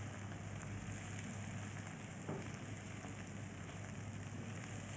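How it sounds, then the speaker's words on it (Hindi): Six to seven green chillies roasting in a pan for an egg curry, giving a steady close sizzle and crackle with a low hum beneath and one small pop partway through. "इनको भी तकरीबन 1 मिनट ज़रा मैं भून लूँगी ताकि मिर्चों का भी कच्चापन ख़त्म हो जाए।"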